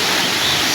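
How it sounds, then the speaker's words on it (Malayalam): Steady broadband rush of Valanjanavattam waterfall in the high ranges, a continuous dense roar of falling water heard close and loud with no voices. "വളഞ്ഞാനവട്ടം വെള്ളച്ചാട്ടം"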